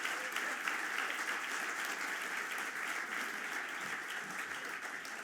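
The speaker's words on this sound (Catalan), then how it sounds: "Aplaudiment per ella." An audience at a pastry awards ceremony in Sant Vicenç dels Horts claps steadily for a winning pastry shop from Lleida, dense sustained applause throughout with no break.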